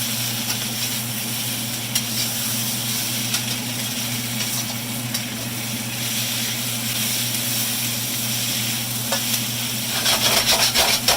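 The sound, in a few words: shrimp cooking and sizzling in a pan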